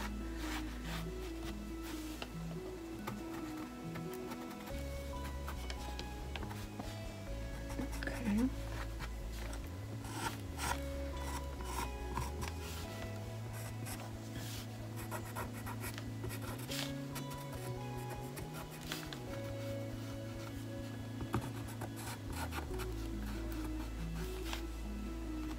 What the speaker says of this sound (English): I have a charcoal pencil here